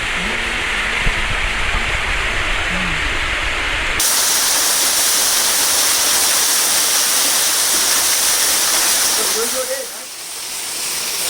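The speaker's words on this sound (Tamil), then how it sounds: "ப்ளஸ் அருவி. அருமை அருமை அருமை." Rushing water of a waterfall at a dam on a rainy day, a steady broadband roar that fills the whole clip and grows louder and harsher partway through, with a voice briefly audible near the end.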